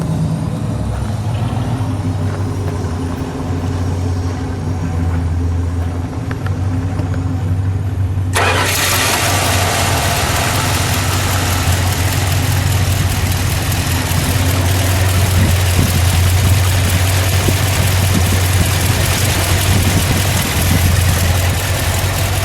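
A 1967 Dodge Dart 270's 273 V8 engine cranks and catches partway through, then settles into a loud, steady, deep idle with a throaty rumble.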